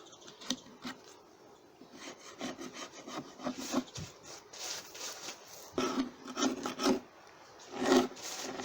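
A hive tool scrapes a wooden beehive bottom board in rough, rasping strokes, close up and irregular, with occasional knocks and scuffs between passes and no talking.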